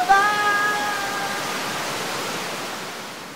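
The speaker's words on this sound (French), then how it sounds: "l'on entend le bruit de la mer" Roaring sea waves make a loud, continuous, broadband wash of surf that fades only slightly over a few seconds. A faint thin tone sounds briefly at the start.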